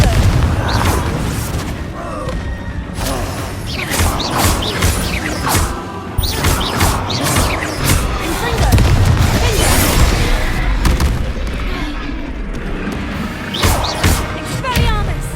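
Fire spell blasts boom and crash in Hogwarts Legacy amid dense, loud battle noise with repeated explosive hits and mechanical clatter, while a voice talks over the action.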